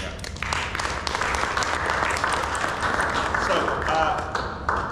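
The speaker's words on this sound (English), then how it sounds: "Quick round of applause for that." Audience applause at a BMC event, loud and continuous clapping from a crowd that fills the whole clip.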